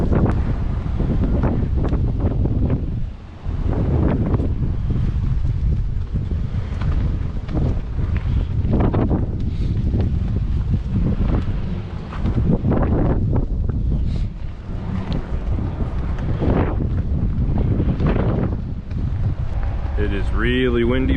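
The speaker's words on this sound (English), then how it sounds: "It is really windy" Strong wind buffeting a microphone at a high viewpoint overlooking Quebec City, a loud, continuous roar with gusty swells throughout, with a person talking under it.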